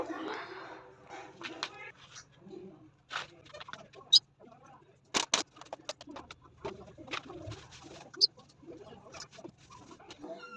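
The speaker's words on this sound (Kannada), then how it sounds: "ಅವ್ರ ಮನೇಲಿ 2 ಪಕ್ಷಿ ಇದೆ, ಅದೇನೇ ಕೂಗ್ತಾ ಇರೋದು" Short, sharp calls from two pet birds ring out a few times nearby, scattered between quiet household sounds and some faint talking.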